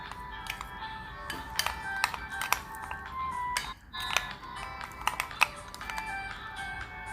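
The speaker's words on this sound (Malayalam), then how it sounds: "ഇതിന് നന്നായിട്ട് നമുക്കൊന്ന് മിക്സ് ചെയ്തെടുക്കാം" Chicken masala with lemon juice and salt being stirred together in a bowl, with close, irregular clinks and scraping taps that start and stop over a steady low background.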